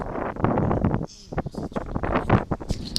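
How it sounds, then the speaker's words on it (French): Strong wind buffets the microphone with rough, low rumbling gusts at an abandoned mine with a turbine, mixed with scattered clicks and noise. "il y a beaucoup de vent aussi"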